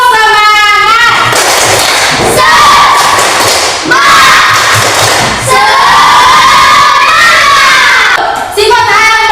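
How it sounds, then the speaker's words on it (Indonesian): Schoolchildren in a classroom lesson shout and clap together in a loud spirit clap, with bursts of thumping claps and excited young voices filling the clip close by. "Tepuk semangat."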